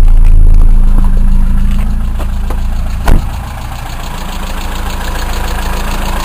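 A Peugeot car engine idles steadily up close, a low continuous rumble with a faint mechanical knock and one brief click partway through, no voices.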